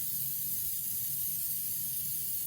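Edible food spray hisses continuously from a spray can at close range, a dense, even, breathy rush that stays unbroken from start to finish with no talking.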